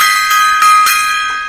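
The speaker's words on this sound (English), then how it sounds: "Gong time." A single gong is struck and rings with bright, sustained metallic overtones that slowly fade, with no voices over it.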